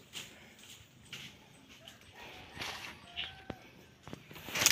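A dog yips and whimpers faintly while fighting a large monitor lizard, amid rustling and scattered thumps, with soft voices in the background.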